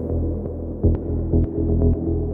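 A deep synth bass line with delay and reverb, produced in Ableton for an intro to a club track, pulses in repeating low notes with soft echoing tails and a few brighter accents, steady and loud with no voices.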